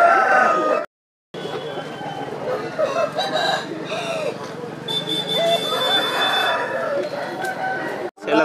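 An Aseel fighting rooster crows loudly and repeatedly nearby at a poultry market, mixed with clucking and other fowl, while people talk in the background.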